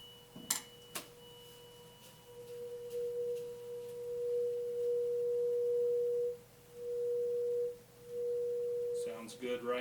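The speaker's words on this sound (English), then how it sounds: "We'll now do this for the musical note B. It is 480 hertz, 480." A steady 480 hertz pure tone at the musical note B rings for a speed of sound resonance experiment, swelling and dipping in loudness as it holds, with a few sharp clicks near the start and end.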